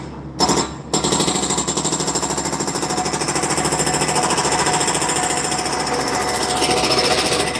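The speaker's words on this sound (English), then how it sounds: "I'm sorry about all the noise, but construction going on." A jackhammer pounds away at street construction nearby, with wiring repairs under way. The rapid rattling hammering is loud and continuous after a brief stutter at the start, and no voices are heard.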